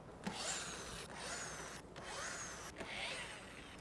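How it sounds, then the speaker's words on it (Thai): A power drill unscrews nuts on a speaker cabinet, giving a faint whirring drone that rises and falls in a few short runs, with no talk. "เราผมจะใช้สว่านนะครับในการขันน็อต"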